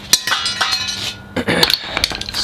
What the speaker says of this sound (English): The hammer and chisel literally just snap those spot welds off